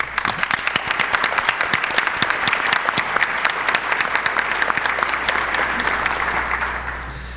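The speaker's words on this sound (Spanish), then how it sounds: "pido un fuerte aplauso de apoyo y bienvenida a don Óscar Robles" A conference audience at the LACNIC 23 opening session gives sustained, even applause to welcome a speaker, dense clapping that holds steady and begins to fade near the end.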